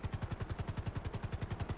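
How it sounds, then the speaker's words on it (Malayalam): A gang helicopter in a Malayalam-voiced online multiplayer game hovers close by, its rotor beating in a fast, steady pulse that holds loud and even throughout, with no talk over it. "SROയുടെ ഹെലികോപ്റ്റർ അല്ലേ അത്?"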